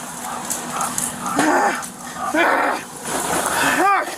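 A dog whimpers and whines in rising, pleading cries, with a few yips, while a voice is heard now and then.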